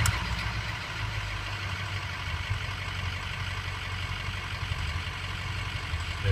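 A Ford 6.0 diesel truck engine starting and settling into a steady idle, a low, even rumble with a faint ticking texture, close and constant with no voices.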